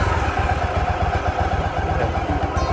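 A motorcycle engine, started with the clutch held, runs at a loud close idle with a rapid even chugging pulse throughout.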